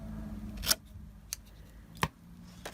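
Small scissors cut paper to angle a junk journal pocket, giving three sharp snips spaced about a second apart, close and clear over a quiet room.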